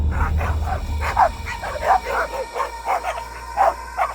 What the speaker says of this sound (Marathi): त्या पाठोपाठ कुत्र्यांच्या भुंकण्याचाही जोरात आवाज येऊ लागला